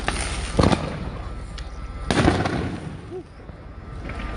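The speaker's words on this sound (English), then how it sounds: "it's the people shooting fireworks behind me" Fireworks going off during a Minneapolis street protest, sharp loud bangs and crackling bursts at close range over a noisy outdoor background of crowd and wind.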